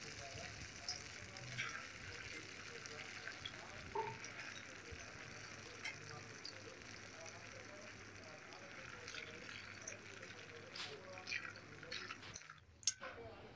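Cut idli pieces deep-frying in hot oil, a steady soft sizzle and bubbling that runs throughout at low level, with a brief clatter near the end.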